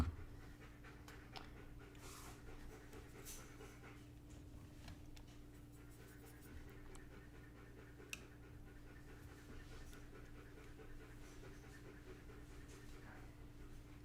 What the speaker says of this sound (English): It's raining outside and Ruka came in, so he's wet. And smells like wet dog